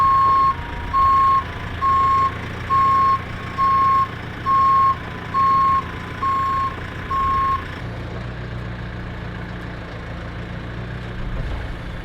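A delivery truck reverses at a building site on flat ground, its backup alarm sounding about nine evenly spaced loud beeps over a rumbling idling engine, which keeps running after the beeping stops.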